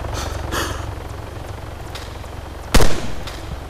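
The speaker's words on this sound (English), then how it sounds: "He's shooting grenades at me." Grenade launcher fire in an online shooter game: a few faint distant pops early, then one loud sharp blast near the end with a short rumbling tail, over a steady low background of game noise.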